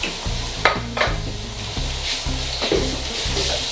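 Marinated chicken hitting a hot pan with peppers and spices, a steady sizzle broken by repeated stirring scrapes and clinks of a utensil against the pan, close and clear.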